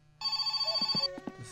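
Old-style telephone bell rings in a video game, a loud close rapid trill lasting under a second, followed by a few soft clunks and knocks.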